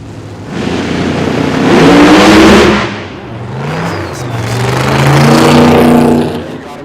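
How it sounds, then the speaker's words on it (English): A 1953 Studebaker drag car with a screw-blown, alcohol-injected Hemi engine at a no-prep drag race revs hard nearby. There are two surging bursts of roaring, rising engine noise with a short dip between them. "Screw-blown, alcohol-injected Hemi right there under the hood of that 53."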